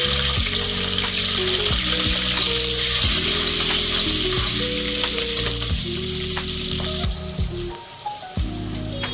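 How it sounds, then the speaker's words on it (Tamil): Biryani masala and green chillies fry loudly in ghee and oil for a chicken biryani. A bright, constant sizzle runs throughout, with a background hum and occasional stirring, and no one speaks. "இப்போது நம்ம பிரியாணி மசாலாலாம் போட்டு அதை ஃப்ரை பண்ணிக்கலாங்க"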